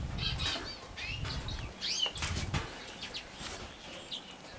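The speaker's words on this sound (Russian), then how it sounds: "А так в любую погоду голубь летит." Pigeons take off and fly outdoors near aviary cages, wings clapping and flapping in several close bursts, with faint chirps from other birds in the background.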